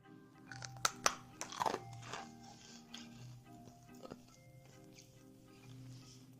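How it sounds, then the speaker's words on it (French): Crunchy chocolate chip cookie, baked from cookie dough ice cream dough, bitten and chewed up close, with a few sharp crunches early on followed by quieter chewing. "Un biscuit extrêmement croustillant."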